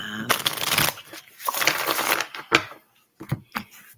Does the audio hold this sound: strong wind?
no